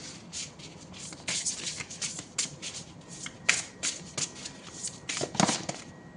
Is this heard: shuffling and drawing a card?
yes